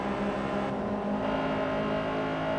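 Raspy, high-pitched race car engine from the Forza Motorsport 3 racing game, in a front-wheel-drive race. It holds a steady, loud, continuous drone with no voices.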